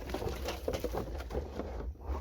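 Steady rain patters down during an incoming storm beside a large stream where eel traps are set, a dense, continuous hiss of drops close by with small irregular taps, fairly quiet overall and without any voices.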